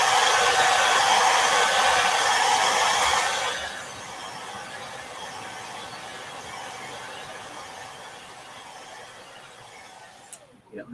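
A handheld heat dryer blows loudly and steadily over chalk paste on a wood tray, then drops to a softer, continuous whoosh for the rest of the run before a brief clatter at the end.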